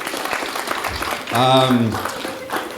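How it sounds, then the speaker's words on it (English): An audience at a stand-up comedy show applauds in a steady wash of clapping while a voice rings out briefly over it. "Round of applause to Kyle, everybody."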